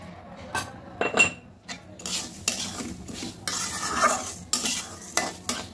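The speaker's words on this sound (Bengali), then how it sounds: "এরকম করে আস্তে আস্তে অনেকক্ষণ সময় নিয়ে ভাজতে হবে" A rice, lentil and peanut dalmuth mix is stirred slowly in a hot pan: repeated scraping strokes of a spatula against metal over a soft, continuous sizzle, close and fairly loud, with no voices.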